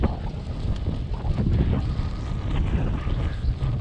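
Strong, hot wind buffeting outdoors, a loud continuous rumbling roar with gusty swells throughout, no speech.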